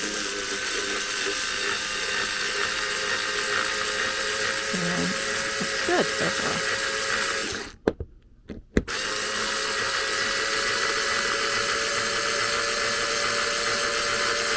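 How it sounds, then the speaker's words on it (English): A small, low-powered drill whirs steadily while boring a hole into a Blythe doll head, a continuous close buzz that stops briefly near the middle and then resumes, with a voice speaking briefly. "my drill bit will not jump around when I start drilling"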